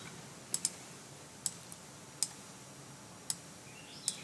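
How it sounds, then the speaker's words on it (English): A computer mouse clicks sharply about seven times at irregular intervals, sometimes in quick pairs, faint and close against a quiet room hiss during work on a beginner laser project. "Okay, we're going to click OK."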